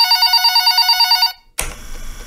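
A telephone rings in a steady warbling electronic trill, loud and close, then cuts off abruptly as the line is picked up with a click and faint room noise.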